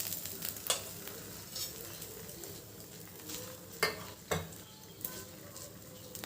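Beaten egg cooks on a dosa on a stovetop griddle for a pizza dosa. There is a soft, low, continuous sizzle with a few sharp utensil taps and scrapes. No one speaks.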